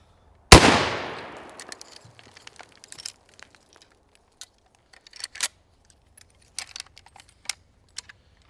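A Winchester 30-30 rifle rechambered to 30-30 Ackley Improved fires a single loud, sharp shot at an outdoor range, and its report decays quickly. Scattered faint clicks and metallic handling sounds follow in near silence.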